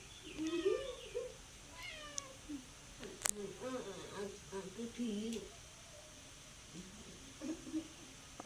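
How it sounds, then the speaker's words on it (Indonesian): A cat meows several times in drawn-out, wavering cries, fairly near but soft, with people talking quietly in the background. "Kucing."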